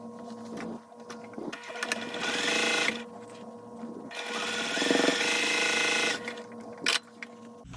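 A domestic sewing machine stitches a quilt block in several bursts of rapid mechanical whirring, pausing between seams with quiet gaps and a brief clack, close and clear.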